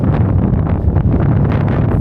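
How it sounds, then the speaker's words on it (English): Strong wind buffets the microphone in a steady, loud low roar with gusty rumbling throughout, no voices. "As you can see, it's windy again."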